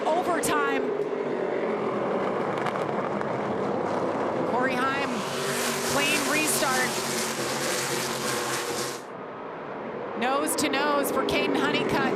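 NASCAR Craftsman Truck Series trucks race at Martinsville on an overtime restart, their loud roaring engines rising and swelling as the field passes, with a commentator talking over much of the noise.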